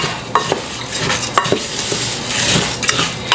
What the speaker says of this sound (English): So you want to stir that around and get it nice and coated.